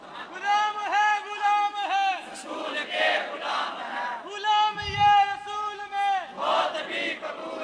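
A crowd chants religious slogans in unison at a sermon gathering, loud repeated shouted phrases in rhythmic bursts with short pauses between, the massed voices ringing with sustained pitch.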